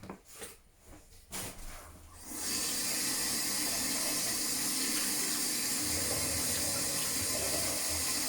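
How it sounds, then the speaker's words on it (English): Water pours steadily onto an orchid potted in sphagnum moss, starting after a few soft handling noises and running as a continuous close splashing hiss to the end. "put a little bit of water"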